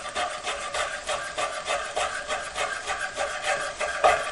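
A sharp knife slices bacon finely on a cutting board, a steady rhythm of soft scraping strokes repeating about twice per second, close and moderately quiet.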